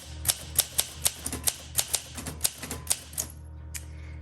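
Keys strike in a quick, irregular rhythm on a pink 1962 Olympia SM7 manual typewriter, each keystroke a sharp, close metallic clack, about a dozen in all, with no talk, before the typing trails off into quiet.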